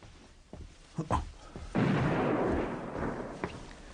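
A few dull distant thumps lead into a heavy booming blast from a cannon fired over a pond, rolling and fading slowly, followed by a faint later thud.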